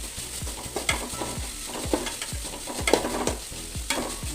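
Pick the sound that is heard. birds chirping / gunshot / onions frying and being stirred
onions frying and being stirred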